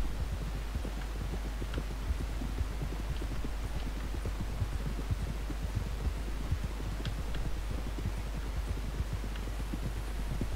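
Horse hooves clip-clop in a steady, continuous walking rhythm throughout Red Dead Redemption 2 gameplay on a southern trail, with a constant low hum underneath and no talk.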